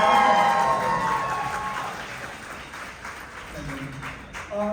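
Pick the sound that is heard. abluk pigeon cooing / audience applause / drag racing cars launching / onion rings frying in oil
audience applause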